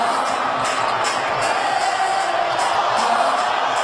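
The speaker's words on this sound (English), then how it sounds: "the chants of Jeremy now thundering down from the sellout crowd" A sellout arena crowd at a basketball game roars and chants in a dense, loud, continuous wall of voices that fills the whole stretch with steady pulses of cheering.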